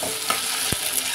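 Egg and vegetables fry in a pan with a steady, soft sizzle and a faint scrape of stirring, no voices.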